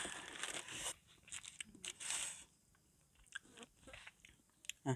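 Fresh small tamarind pods picked from the tree and dipped in salt are eaten out in a rice field, with close, crisp bites and crunchy chewing coming in bursts and short pauses between them.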